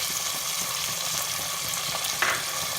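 Sabudana khichdi with tomato, salt and red chili powder is stirred in a hot pan, giving a steady close sizzle with soft scraping strokes and one brief louder scrape near the end, with no voices.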